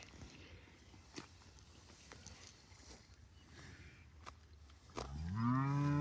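Quiet outdoor shuffling and a few soft thuds of cattle hooves on grazing pasture, then a cow lets out a loud, drawn-out moo near the end.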